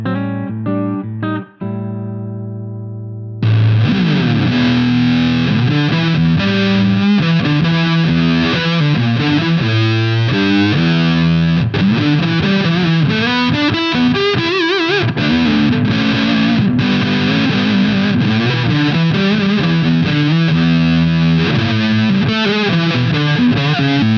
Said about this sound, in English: next up, we've got the Fur Coat Fuzz.